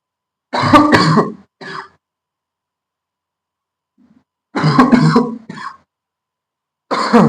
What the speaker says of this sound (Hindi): सॉरी, खांसी हो रही भाई